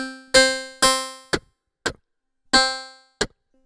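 A K snare sound run through granular delay on a Loopstation becomes a string of metallic, pitched clangs. Long ringing hits alternate with short clipped ones in a choppy pattern, close and clean with no voices.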